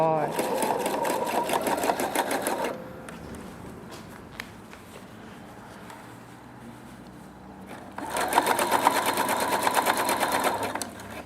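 A Pfaff Quilt Expression 4.2 sewing machine stitches at a lengthened stitch in two steady, buzzing runs of rapid needle strokes, separated by a quieter pause with faint handling noise.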